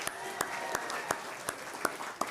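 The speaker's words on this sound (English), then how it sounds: "Put your hands together for Highland Fairview" Audience applause for a sponsor at a city State of the City event in Moreno Valley: a soft, steady patter of clapping with several sharper, evenly spaced claps standing out, heard at a distance.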